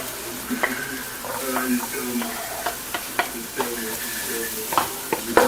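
Garlic sizzles in a pan with onions for a Filipino-style sweet spaghetti sauce, with a run of quick, close stirring scrapes and light utensil taps over the constant frying, and no voices.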